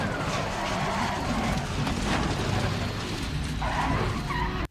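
Race car in iRacing braking hard and skidding across grass, a loud continuous scrubbing rush of tires with engine noise underneath, shifting in pitch near the end before cutting off abruptly.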